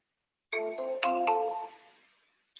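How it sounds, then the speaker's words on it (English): An invalid-number tone on a phone call, made of a few bright electronic tones in quick rising succession that ring out and fade, then stop, with silence before and a brief new tone at the end. "third-party dialers don't detect all of the bad phone number tones"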